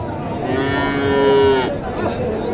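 A cow moos loudly and nearby in one long drawn-out call, with a steady low crowd murmur underneath, at the Wednesday Mataji cattle market in Mahadevpur, Naogaon, where improved-breed Sahiwal and Gir heifer calves are sold.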